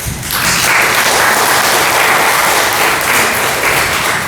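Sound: church congregation applauding

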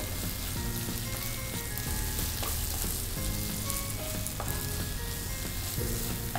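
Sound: prawns frying in masala in a pan

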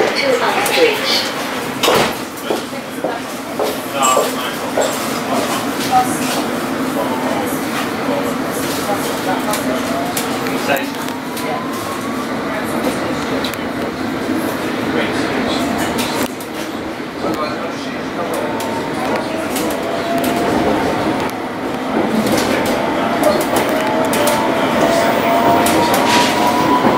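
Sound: London Underground Metropolitan Line train running

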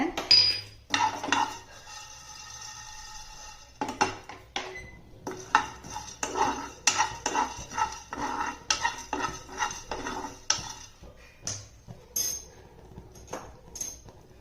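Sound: spoon adding coriander seeds into cooking pot

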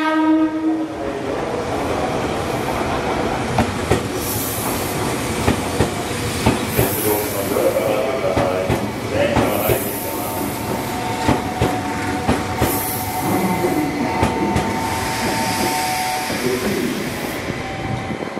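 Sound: Meitetsu 3500 series express train arriving at Kanayama station, horn

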